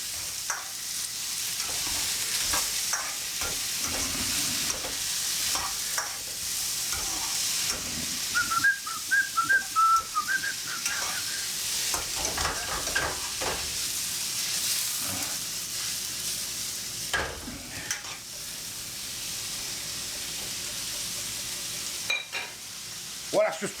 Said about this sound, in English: Well, that's just frying away.